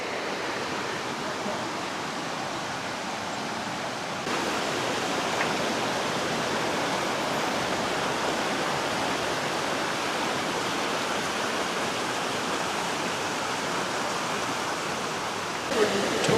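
A river in a Costa Rica cloud forest flows with a steady, broad rushing hiss that stays constant and fairly close throughout.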